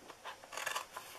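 Scissors cut through a paper box flap for a flower gift box, a short, soft, close rasping snip lasting about a second.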